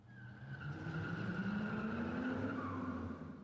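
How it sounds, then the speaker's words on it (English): A car engine roars steadily under loud squealing tires as the vehicle pulls away hard, rising pitch of the engine and skid continuing throughout, close and loud with no talk. "The roar of an engine and squealing tires were her answer when she decided to go for it."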